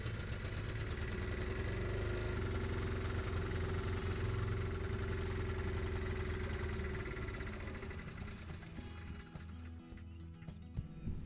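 A generator engine running outdoors in winter, a loud steady mechanical hum and drone with a low throb that holds level throughout, with some faint scattered clicks near the end and no talking.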